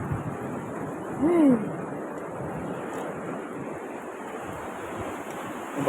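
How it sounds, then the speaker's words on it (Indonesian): Ocean waves roll in steadily along a rocky shore at low tide during crab fishing, a continuous broad wash with a brief louder surge near the start, plus some wind rumble. "Ombaknya datang terus guys"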